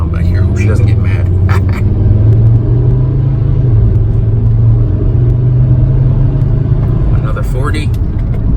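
A VW Jetta Mk5 rolls along at about 40 with a steady low road rumble and engine drone, then slows under firm braking; a person talks briefly over the near, continuous cabin noise.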